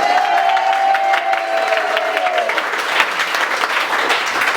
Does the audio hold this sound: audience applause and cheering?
yes